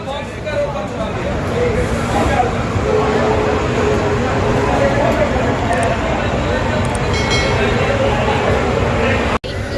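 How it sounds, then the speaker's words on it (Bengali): The Uttar Banga Express passenger train rumbles in a steady, loud roar, with people talking over the continuous noise inside a crowded carriage. "আমাদের ট্রেন ছেড়ে দিল রাইট টাইমে একদম সাতটা চল্লিশ উত্তরবঙ্গ এক্সপ্রেসে শিয়ালদা থেকে"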